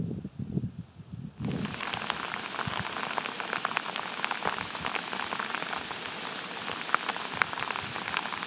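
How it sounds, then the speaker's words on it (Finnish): Steady rain hisses evenly on the surrounding ground and vegetation during a wilderness hike. It starts suddenly after a brief quieter moment of faint rustling and then holds a constant, close, dense patter. "kyllä se sade nyt tuli päälle"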